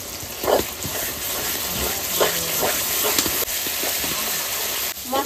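Onion and spice paste frying in oil in a home kitchen, a steady sizzling hiss with a few brief louder bursts and light clatter, alone without talk.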